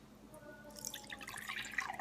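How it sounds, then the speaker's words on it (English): Water poured into a measuring cup, a faint, close splash and trickle that builds over two seconds, alone without talk. "So I'm going to pour my water"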